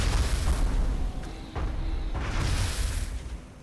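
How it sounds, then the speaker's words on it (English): Rapid-fire weapon shots in the video game XCOM Enemy Within, a dense rumbling barrage of booming blasts filling the whole moment, with a short dip partway through before the heavy low roar resumes and tapers off. "we can go for 2 rapid-fire shots with Adam"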